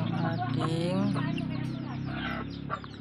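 Two-month-old Sweater Lemon gamefowl chickens give a run of close, overlapping clucks and honking calls, steady and fairly loud, with faint human voice underneath.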